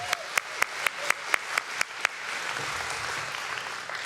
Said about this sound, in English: yes, let's applaud our staff.